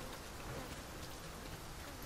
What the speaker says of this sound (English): Mind the rain, Master. We mustn't let ourselves become soaked to the skin.